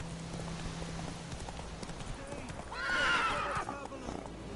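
A horse in a video game gallops with fast, close hoofbeats, then lets out a loud neigh partway through, while a voice talks over it.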